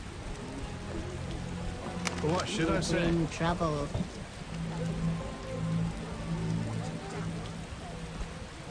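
Steady rain patters on surfaces in a town quarter in The Witcher video game, a continuous soft hiss running under two voices trading brief lines of dialogue with a few sharper tones.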